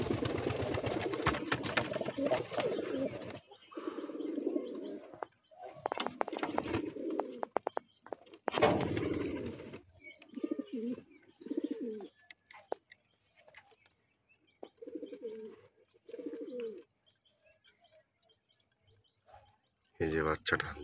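Bombay white pigeons cooing nearby, repeated low throaty coos in uneven bursts with pauses between, alongside soft rustling and shuffling in the coop.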